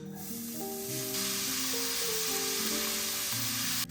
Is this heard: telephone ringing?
no